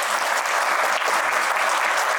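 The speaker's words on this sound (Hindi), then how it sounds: "एक बार SOS के लिए जोरदार तालियां।" Loud, dense applause from an audience at a company training event, continuous and close throughout.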